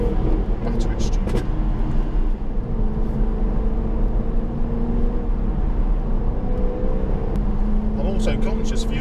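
A Jaguar F-Type, V6 or V8, drives along a country road in Wales, its engine giving a steady, loud low drone throughout with faint higher accents near the end.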